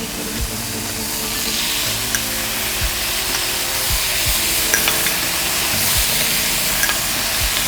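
Tomatoes hit a hot pan with caramelized red onion and fry with a steady, close sizzle, punctuated by periodic low knocks and scrapes as they are stirred and charred, with no talk.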